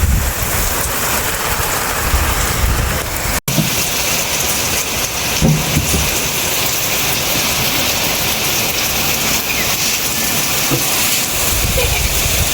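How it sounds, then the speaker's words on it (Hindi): Heavy monsoon downpour in Lahore, a loud, steady hiss of rain pounding surfaces throughout, with a brief dropout early on and low rumbles underneath. "तो ये बारिश शुरू हो गई है, बहुत तेज़ बारिश हो रही है"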